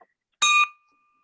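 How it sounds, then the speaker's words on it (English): A single bell struck once to honor a member during an online meeting, a bright ringing tone that rings out and fades into a long thin sustain, alone with no talk. "So ring the bell for Barry and the Invest in Others Foundation"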